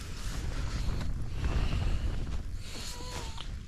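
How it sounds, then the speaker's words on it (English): Strong wind buffets a wild camp tent on Stony Cove Pike, a Lake District fell, as a steady, broadband roar with gusting surges and mic rumble, plus faint flapping and creaking throughout. "Wind's certainly picked up."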